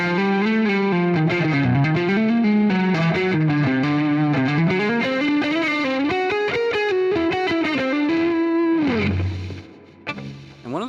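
Electric guitar with distortion and effects runs up and down a whole tone scale in steady, bending melodic lines, loud and sustained, before trailing off with a few brief notes near the end.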